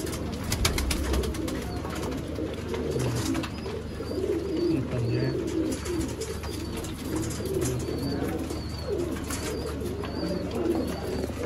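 Rampuri pigeons at a Sialkot bird sale coo in low, rolling murmurs, several birds overlapping continuously nearby with faint chirps and background rustle.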